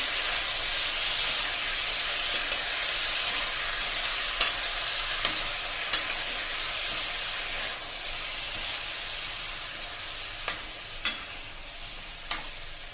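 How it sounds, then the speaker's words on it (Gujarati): Bottle gourd khichdi with turmeric being stirred in a pot over a steady sizzling hiss, with a spoon scraping and tapping the pot in sharp strokes every second or two. "અને હવે આને બધાને આપણે મિક્સ કરી લેશું"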